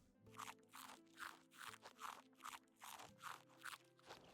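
Berries being eaten with a steady run of about ten crisp crunching bites in Medieval Dynasty, close and fairly quiet, with no talking.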